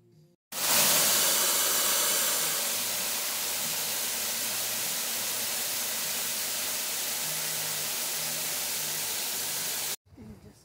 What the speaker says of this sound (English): Then I'm just going to fill it up with some cool water.